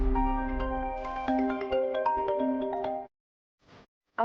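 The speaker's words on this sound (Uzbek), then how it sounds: "Usha telefoning." A phone ringtone plays a bright melodic tune for about three seconds, then stops. A brief rustle and a faint sound follow near the end.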